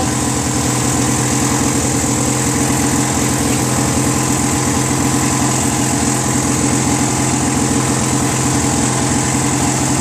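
A Craftsman LT1000 garden lawn tractor engine, an opposed twin, idles steadily and evenly for the whole stretch, a constant low chugging with no voices.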